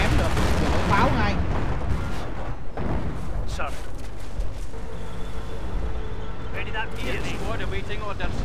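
Artillery shells booming in a World War II real-time strategy game, Company of Heroes, with heavy dense blasts and rumbling explosions filling the scene, sharp bursts landing every second or so, under a voice talking over the battle.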